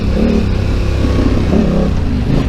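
Yamaha Tenere 700 motorcycle engine heard while riding, a loud continuous close-up throb with rhythmic pulsing and slight shifts in pitch, and no voices.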